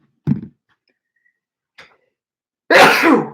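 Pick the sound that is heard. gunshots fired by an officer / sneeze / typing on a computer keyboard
sneeze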